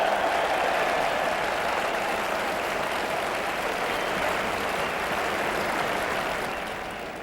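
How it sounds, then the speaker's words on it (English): A cricket Test match crowd gives steady, polite applause, a dense wash of clapping that holds evenly for several seconds before tapering off near the end. "Polite applause"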